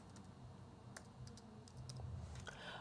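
Computer keyboard typing while entering numbers into tax software, soft rapid clicks at close range, faint against a steady low background hum.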